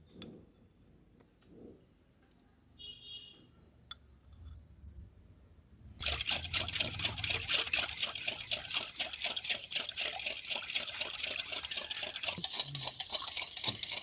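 Cake batter with yogurt and oil is beaten vigorously in a bowl for an eggless zebra cake, a loud, fast, rhythmic scraping whisk that starts abruptly after a quiet stretch with faint bird chirps in the background.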